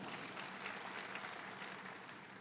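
Church congregation applauding during a sermon, steady dense clapping spread evenly throughout at a fairly faint level, with no voices standing out.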